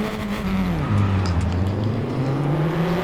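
Open-wheel Tatuus race cars in a Raceroom online race at Portimao pull away together at the start, a loud continuous engine roar with pitch rising and falling through gear changes.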